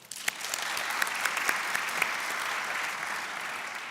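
An audience at an agency's annual meeting breaks into applause for a volunteer manager: a dense, even patter of many hands clapping at moderate distance, holding steady and then easing slightly toward the end.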